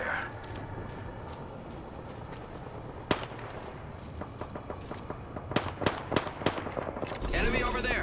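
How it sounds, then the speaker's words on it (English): Enemy squad gunfire in a video game comes as scattered sharp cracks, faint at first and then clustering into a denser burst of loud shots near the end, over a low background hum. "A second squad is firing at us."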